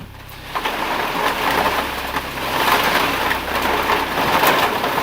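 Steady rain falls with a dense, loud hiss and spattering on surfaces, continuous throughout with slight swells in intensity.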